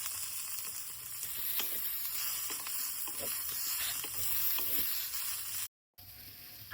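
A spoonful of oil sizzles in a pan as coconut is roasted for a Konkan brinjal-potato dish. A soft, continuous hiss with faint clicks runs throughout, then briefly cuts out near the end.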